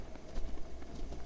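Horse hooves in The Legend of Zelda: Breath of the Wild: a quick, rhythmic clip-clop of a galloping horse, close and moderately loud, with no one speaking over it.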